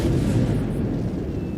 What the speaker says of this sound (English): Some of our cannons are firing